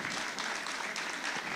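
An audience at a veena arangetram recital applauds in a dense, steady burst of clapping, close and continuous throughout.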